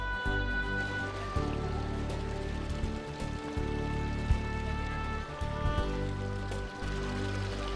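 Fountain water runs steadily in the Plaza del Torico, a town square in Teruel, a continuous splashing wash with a few brief dips and one sharp splash, heard up close with no talking.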